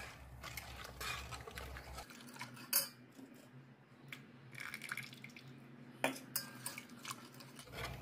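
Spoon stirring a dried milk mixture into boiled milk in a pot while making mango ice cream, giving soft scattered clinks and scrapes with a couple of sharper taps, quiet and close with no talk.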